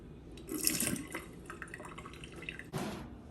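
Water trickles and drips into a cup in a home kitchen during recipe prep, a short soft pour with a brief splashy burst near the end, fairly quiet and close.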